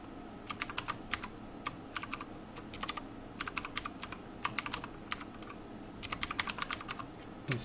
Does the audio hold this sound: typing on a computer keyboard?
yes